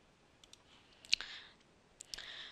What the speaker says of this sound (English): I can do this by pressing Ctrl and U on my keyboard